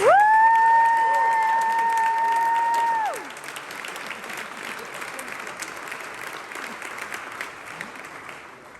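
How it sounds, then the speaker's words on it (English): An audience applauds at a Bellarmine ASUN championship celebration, producing dense, sustained clapping with high whistles over the first few seconds, then settling into softer, steady applause. "let's have another round of applause for Coach Davenport."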